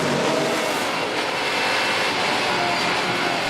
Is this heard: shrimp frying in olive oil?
no